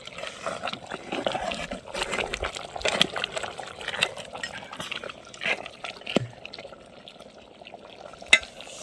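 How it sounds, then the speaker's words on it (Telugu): Chicken curry in a pot being stirred slowly after coriander powder goes in, with wet, sloppy scraping and squelching at close range, irregular soft clicks and a sharp tap near the end. "కలిపేటప్పుడు చిన్నగా నిదానం కలుపుకోవాలా"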